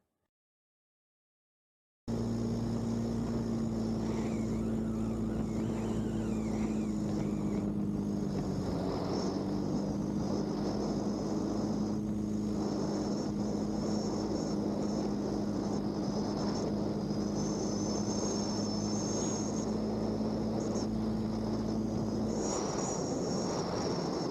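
A light airplane on landing approach with flaps out, heard from inside the cabin as a steady engine drone with a low hum and wind rush, constant and loud throughout with no talk.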